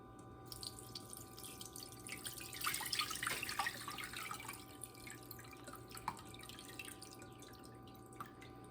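Dandelion juice dripping and trickling through a mesh strainer into a pot, a soft liquid patter that swells briefly then thins to scattered faint drips in a quiet kitchen.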